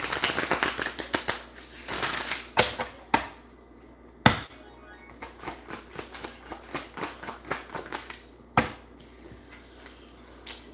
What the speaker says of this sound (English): I'm only gonna shuffle this deck here one time.